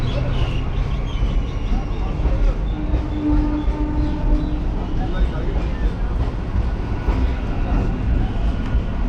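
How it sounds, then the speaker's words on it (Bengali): A suburban train near New Barrackpore station on the route toward Kolkata rolls along the rails with a loud, continuous low rumble and rattle, and faint voices mix in beneath it. "এই ট্রেনটা মাঝঘাট চলে যাবে"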